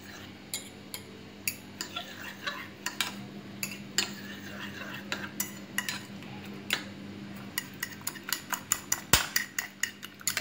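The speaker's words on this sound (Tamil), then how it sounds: "முட்டையை நல்லா மிக்ஸ் பண்ணி விடுங்க" Eggs being beaten in a bowl for a karandi omelette, with rapid irregular clinks of a spoon or fork against the bowl, growing quicker and denser toward the end, close and fairly loud over a faint hum.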